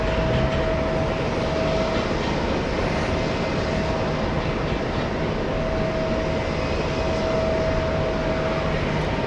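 A jet airliner arrives on runway 13 right at JFK airport, heard as a steady, loud roar of engine noise that does not let up, with no voices.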